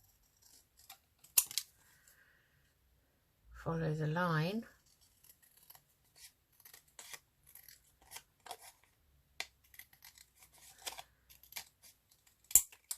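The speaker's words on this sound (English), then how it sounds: "let's see if we can cut this one straight now with the scissors" Scissors snipping through paper ephemera while crafting winter embellishments, a few sharp short cuts scattered across the clip between quiet pauses, close and crisp, with a brief stretch of talk in the middle.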